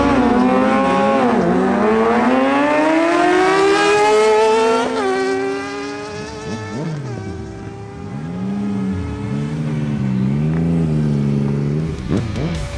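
Two Kawasaki Ninja motorcycles, a ZX6R and a Z1000SX, drag racing: loud, close engines rev up through rising gear pulls with brief dips at shifts, then the pitch wavers and swells again as the bikes run on.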